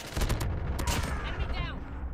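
Gunfire in the mobile shooter Call of Duty Mobile: a brief burst of several rapid shots, loud and close, followed by a ringing, fading tail.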